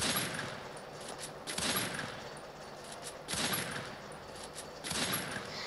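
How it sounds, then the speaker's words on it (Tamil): Bursts of MP40 submachine gunfire in a battle royale video game come in short rapid volleys separated by brief pauses, loud and close. "நான் நார்மல் கன் இந்த MP40 வச்சுக்கேன்."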